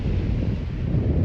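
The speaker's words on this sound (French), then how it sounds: "le vent se lève un peu plus" Steady wind of about 14 knots rumbling and buffeting against the microphone aboard a sailboat in the Caribbean, a low continuous roar with no talk.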